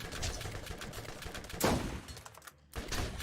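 Gunfire from the Borderlands 1 video game, a run of rapid shots and bursts with one loud blast near the middle, followed by a brief drop and renewed firing.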